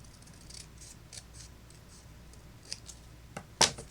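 Scissors trimming a piece of paper for a double-pocket card, heard as a few quiet snips with one sharper cut near the end, with no talk.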